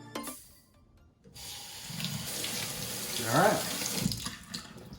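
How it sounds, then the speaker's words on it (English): Tap water runs steadily into a kitchen sink while rice is washed for homemade sushi, a close continuous splashing rush with someone speaking briefly over it. "One of the first things you're gonna do is want to wash the rice."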